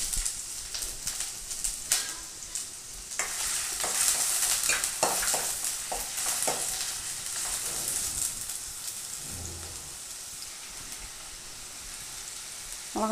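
Onions sizzle and crackle in hot oil, with occasional stirring clatters against the pan and a steady frying hiss throughout.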